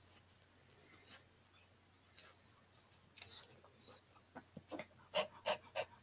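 A woman breathes heavily in quick, panting pulses that build toward the end, close and faint, over a low steady hum.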